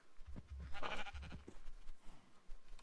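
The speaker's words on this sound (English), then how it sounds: "Next up we have sheep" A Minecraft sheep bleats a couple of times, wavering and close, with brief low thuds and game noise around it.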